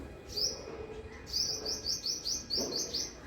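Small birds chirp in a tree in a quiet morning setting, a series of short, bright, evenly spaced tweets, faint and somewhat distant over soft background noise.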